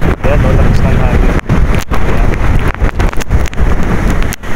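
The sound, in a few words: strong wind blowing outdoors near farm fields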